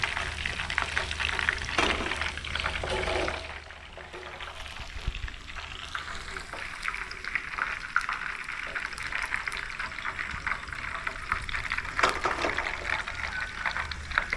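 Prawns frying in hot oil outdoors in a courtyard, turning crisp and golden; a steady, moderately close sizzle and bubble runs throughout, with occasional clinks and stirring noises.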